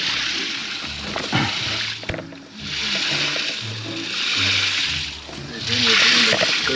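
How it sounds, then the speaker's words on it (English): Water gushes and splashes out of a vent in a stucco wall into a crawl space, a steady loud wash that swells and fades, with people talking over it. "Look at all of that water coming out of this vent."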